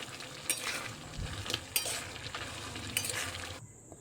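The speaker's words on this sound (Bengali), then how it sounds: "লবণটা দিয়ে নিয়ে খুব ভালো করে আমি নাড়াচাড়া দিয়ে নিচ্ছি" Peas and potatoes with spices and salt are stirred in a pan for a vegetarian ghugni. Soft scraping strokes and light clinks of the utensil sit over a continuous low sizzle, close up with no voices.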